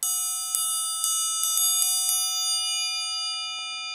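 A metal triangle struck on the bottom for a rich tone, a bright ringing shimmer with several quick light taps early on, then sustaining and slowly decaying alone.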